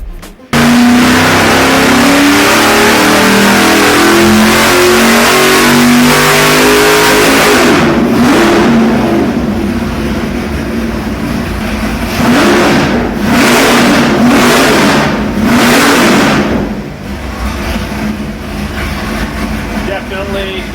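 A 572 Pump Gas Warrior engine revs hard and aggressively, loud and close, with sweeping rising and falling pitch and sharp blips of throttle over about twenty seconds.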